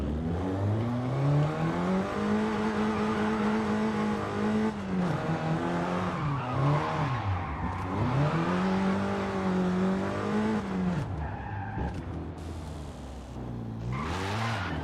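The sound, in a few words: car engine revving in Forza Horizon 5 video game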